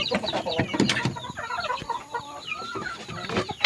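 Several chickens cluck and chirp close by, a Burmese hen among her young chicks, with steady overlapping clucks and peeps throughout and no one talking.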